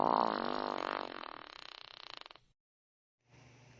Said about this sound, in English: This is a fart.